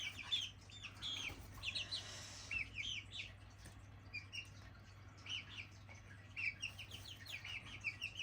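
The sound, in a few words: chick flapping and clucking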